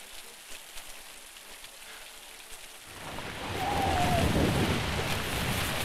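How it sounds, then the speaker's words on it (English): Rain falls in a black-and-white film scene of a doctor walking through a bleak rural landscape, a soft hiss that swells into a heavy, steady downpour with low rumbling. "Such as these shots with a doctor walking in the rain."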